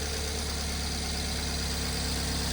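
A repaired car engine idles steadily close by, a low, even rumble with a slight knocking pulse and no talk.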